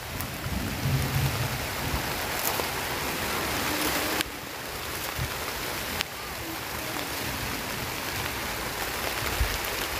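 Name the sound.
rain falling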